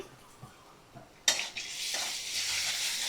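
A ginger-garlic and cumin paste hits a hot pan over fried onion for chicken chotpoti, bursting into a sudden sizzle after a few quiet clinks, then settling into a steady, close frying hiss.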